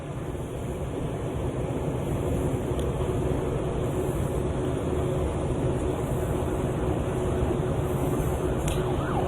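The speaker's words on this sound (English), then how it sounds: "You can hear the sirens in the distance." A faint siren wails far off, buried under a steady wash of broadband noise like wind or traffic.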